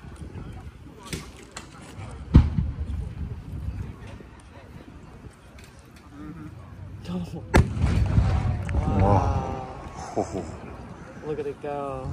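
A 10-inch coconut firework shell bursts in a sharp, loud boom, with a second crackling blast later, at a pyrotechnics convention display. Crowd voices and talk are heard around the explosions.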